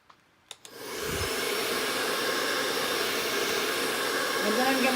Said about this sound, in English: Now let's hit it with a dryer.